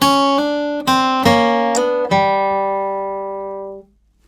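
A short flatpicked acoustic guitar phrase of several plucked notes, one note sounded by a hammer-on, ending on a sustained ringing note that fades out.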